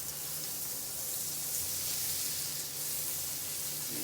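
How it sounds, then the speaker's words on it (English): Butter sizzles and bubbles on a hot griddle at about 400 degrees, a steady, even hiss of frying that carries on unbroken and fairly quiet for several seconds. "If that butter bubbles up like you're seeing it doing now, it looks good"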